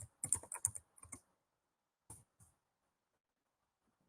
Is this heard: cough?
no